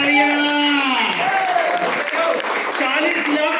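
An audience in a gathering bursts into sustained applause and clapping, steady and fairly loud throughout, with voices speaking over it.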